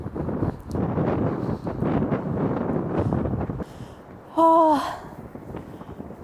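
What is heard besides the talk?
strong wind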